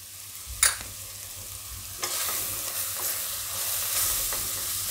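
Red chili powder hits frying cauliflower curry with a steady close sizzle and a few sharp stirring scrapes, the hiss building as it is mixed in, with no voices.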